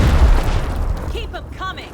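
Grenade explosion in the Gears Tactics video game, a heavy low boom at the start that quickly decays, followed by a brief shouted voice line.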